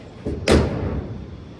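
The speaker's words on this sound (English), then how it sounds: "This door's just not all the way shut." A Buick car door slams shut once with a solid thud, preceded by a lighter knock and followed by a brief ringing tail, close and loud with no talking.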